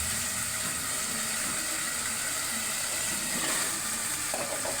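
Chicken liver and potatoes sauté in oil, giving a close, constant sizzle with a few soft stirring clicks near the end.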